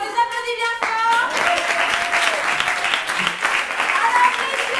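An audience applauding after an improv theatre scene, dense clapping that swells after a brief moment of voices and carries on under some speech and cheering.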